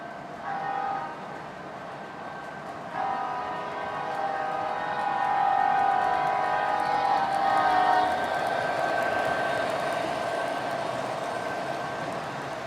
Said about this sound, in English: Here's a train running by to keep you entertained.